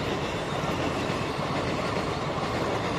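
A passenger train running from Jabalpur toward Nagpur rolls past close by, a loud continuous rumble with rhythmic clickety-clack of wheels on rails and no voices.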